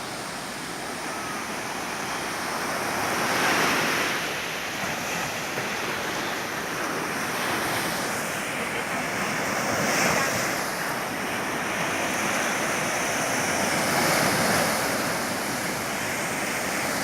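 Sea waves roll onto a shore, a broad, continuous roaring wash that swells gently every few seconds, mixed with gusts of wind buffeting the microphone and no voices.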